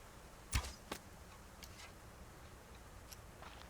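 An arrow loosed from a bow in the survival game Subsistence gives a sharp whoosh and snap, followed a moment later by a second fainter thud, then only quiet ambient wind with a few distant ticks.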